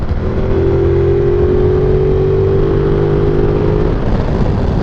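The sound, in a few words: motorcycle engine at high revs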